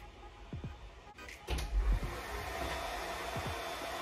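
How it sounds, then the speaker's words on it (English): A clothes dryer runs indoors, a steady broadband drone that grows a little louder partway through, with a few dull knocks and thumps over it and no talking. "you got the dryer on."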